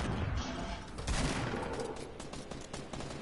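Two teams trade gunfire in a Fortnite match: a dense, continuous fusillade of rapid shots, somewhat distant and steady in loudness, with no voices over it.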